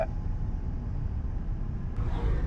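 A car pulls away in third gear after a smooth shift, its engine a low, steady rumble heard from inside the cabin, rising slightly in strength toward the end with no voices present.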